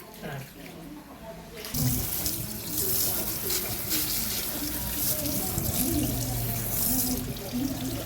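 Water sprayed onto a dusty, still-hot refrigerator condenser during a GE fridge repair, a steady loud hissing spray with splashing that runs continuously after a brief quieter start, with a voice faintly underneath.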